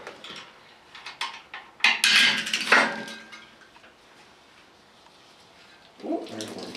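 Coolant gushes and splashes from a 2001 Ram 3500 Cummins diesel engine during a teardown, a loud noisy burst of running liquid with clanks of metal before and after.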